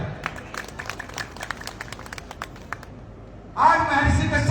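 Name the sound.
audience applause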